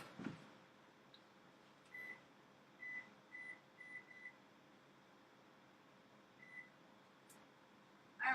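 A kitchen oven timer being set gives a series of short, thin electronic beeps, several close together and one later, in a quiet room.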